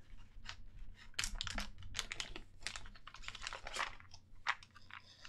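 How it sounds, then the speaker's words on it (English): Plastic packaging of a cheap two-layer keycap set is torn open and crinkled up close, a busy run of sharp crackles, rustles and clicks. "let me open up one of these packs so I can kind of show you guys what we're getting into here"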